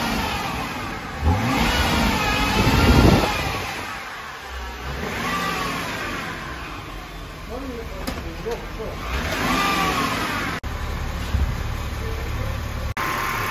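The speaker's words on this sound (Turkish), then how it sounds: "Araç P'de ise bir de gazına basalım." A BMW X5 3.0 diesel engine sitting in park, revved in several rising and falling surges with throaty mid-range roar, close by, with people talking intermittently over it.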